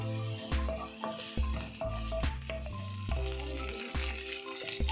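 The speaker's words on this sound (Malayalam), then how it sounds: "നന്നായിട്ടൊന്ന് സോട്ട് ചെയ്യാം." Egg 65 pieces sautéing in a hot pan, a steady crackling sizzle broken by repeated scraping and tapping of a spatula against the metal, close and clear with no speech.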